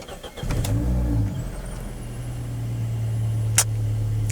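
A Peugeot 206 RC car engine cranks and catches, then settles into a steady, close idle with a thin high whine above it and a brief click near the end.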